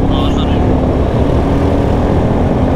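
A Royal Enfield Himalayan 450 motorcycle rolls along on the road, and its loud engine drone blends with heavy wind rush in a constant roar from start to finish.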